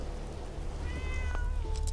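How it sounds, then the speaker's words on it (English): A cat meows in the video game Fallout 4, one clear rising meow over a rainy ambient game background, with no talking during the call. "Oh, new kitty!"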